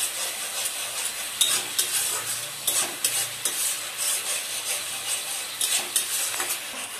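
Spices with turmeric and chili being stir-fried into a gravy base for Bengali khichuri: loud continuous sizzling with repeated spatula scrapes and clinks against the pan, close and steady throughout.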